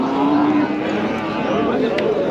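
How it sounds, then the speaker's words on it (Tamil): Kangayam cattle calves at a busy livestock market in Krishnagiri, Tamil Nadu, with a low drawn-out moo over dense crowd noise and talk. "காங்கேயம் கன்றுகள் இருக்குது பாருங்கள்."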